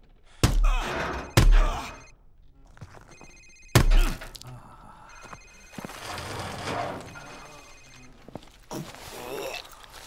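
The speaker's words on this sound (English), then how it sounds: "Sir, it's his cell phone." A cell phone rings in a Call of Duty Modern Warfare safe-house interrogation, its tone sounding in two stretches amid heavy thuds and knocks and a muffled voice.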